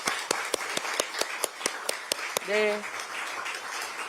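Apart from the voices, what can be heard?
audience clapping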